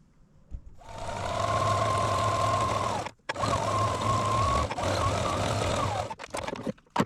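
A sewing machine runs a zigzag stitch along shirt facings in two long steady whirring bursts with a humming motor tone, pausing briefly between them and ending with a few light clicks.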